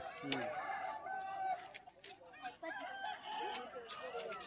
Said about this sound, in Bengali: শিবরাত্রির দিনে চলছে মুরগির লড়াই, তাই তো?